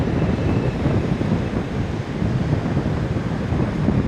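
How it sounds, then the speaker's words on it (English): Strong wind and ocean surf roar steadily at Coral Cove Park, a loud, continuous wash of breaking waves and gusting wind buffeting the microphone, with no voices. "You can hear the wind, and when I turn around,"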